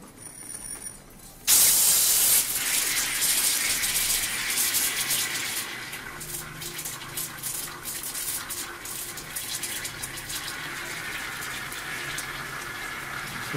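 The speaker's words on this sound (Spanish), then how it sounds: "Hay que purgarlo, que salga todo el aire." A boiler being purged of air and water after cleaning gives a sudden loud hiss and gush of spraying water and steam that runs steadily for many seconds, with sputtering bursts as air escapes.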